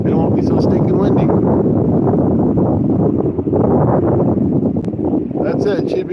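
Strong wind gusts across the Mississippi River, buffeting the microphone with a loud, continuous rumbling roar that barely eases throughout.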